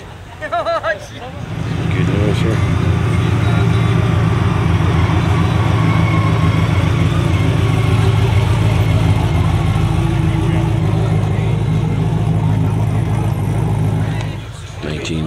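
A parked 1971 Cadillac at an outdoor Labor Day car show runs with a steady, deep idling rumble, close and continuous, while people talk nearby.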